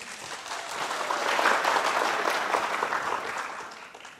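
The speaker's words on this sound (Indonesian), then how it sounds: "Tepuk tangan dulu." Audience applause at a Balinese quiz contest semi-final, a dense burst of clapping from a crowd that swells and then fades away over a few seconds.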